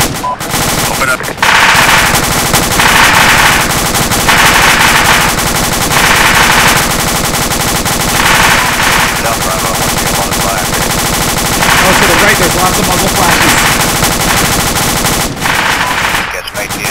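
Sustained automatic weapon fire in a military shooter game, loud repeated bursts of machine-gun shots over a continuous roar, with a brief pause near the end.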